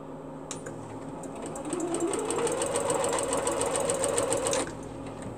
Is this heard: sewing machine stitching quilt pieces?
yes